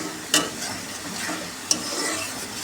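Ground turmeric, salt, chili powder and coriander sautéing in a hot pan for a Bengali chicken kosha, a steady close sizzle with a couple of sharp scrapes from the stirring utensil and no talking.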